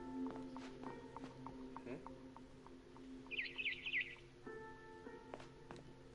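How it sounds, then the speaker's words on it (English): A barn swallow chirps outside a window in the video game What Remains of Edith Finch, a brief bright twittering burst over faint game ambience and soft footsteps. "Then I heard chirping outside my window."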